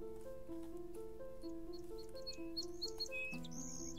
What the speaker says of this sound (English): the birds sound really, really beautiful